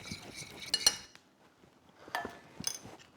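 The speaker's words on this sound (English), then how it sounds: "And then you can just mix those ingredients together like that." A spoon clinks against a bowl while a mustard, honey and extra virgin olive oil glaze is stirred, in two short bursts of light metallic taps separated by a quiet pause.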